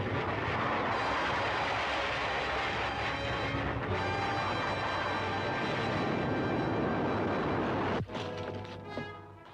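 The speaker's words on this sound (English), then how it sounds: "I'll fly out the rocket and try it." A rocket ship blasting off as a radio-drama sound effect, a loud continuous roaring whoosh with a droning mechanical hum that holds steady for several seconds, then cuts to a quieter, fading rumble.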